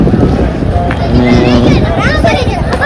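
Loud, gusty wind buffets the microphone in low rumbling bursts, with voices faintly mixed in underneath.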